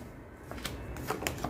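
Tarot cards being shuffled and drawn from the deck, with several short papery flicks and snaps in quick succession, close and fairly quiet.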